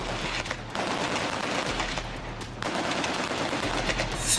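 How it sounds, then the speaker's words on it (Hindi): Rapid bursts of machine-gun fire during an attack on a boat at sea, sounding loud and continuous with short gaps between dense volleys. "तड़ातड़ गोलियां बरसने लगी।"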